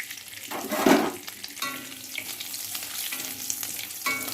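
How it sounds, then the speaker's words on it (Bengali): Black cumin seeds and dried red chilies hit hot oil and set off a sharp burst of sizzling, then keep frying and crackling steadily. A spoon stirs now and then, close by, with no talking. "এখন এই তেলেই আমি দিয়ে দিচ্ছি কালো জিরে আর শুকনো লঙ্কাটা আগে দিলাম।"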